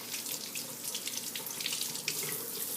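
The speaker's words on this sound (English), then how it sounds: "I'm just going to run a little cold water on it so I don't tear up." Cold water runs from a kitchen tap in a steady, soft hiss, alone and fairly close.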